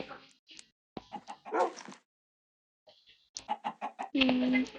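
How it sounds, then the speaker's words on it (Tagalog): Chickens cluck in short bursts with a dog-like bark mixed in, followed by a sustained squawk, the calls coming in clusters separated by a brief quiet gap. "Daming manok."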